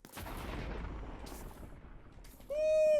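A deep, rumbling Minecraft explosion rolls out and fades, then a bright tonal chime sounds right at the end.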